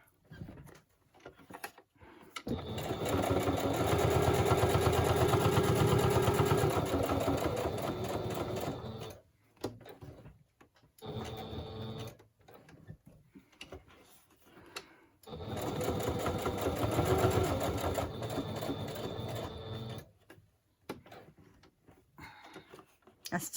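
A sewing machine runs a messy stitch in two long, steady bursts of rapid needle clatter, separated by pauses. It is close and fairly quiet, with a few soft handling sounds between runs.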